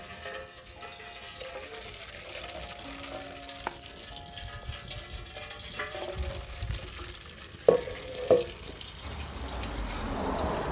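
Used oil left from frying chicken is strained through a sieve: a steady soft trickling hiss with a few sharp clinks near the end, and no talking.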